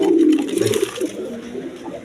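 Red and cream Gola pigeons, a red male and a cream female offered for sale, coo in low throaty rolling bursts close by, loudest at the start and then softer and more broken.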